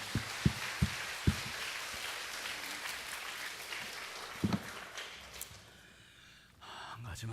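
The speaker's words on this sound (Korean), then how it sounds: "우리 하나님께 영광의 박수 올리겠습니다." A church congregation applauds at the close of a prayer in a worship service, a dense, steady wash of clapping with a few sharper knocks early on, thinning out and fading near the end.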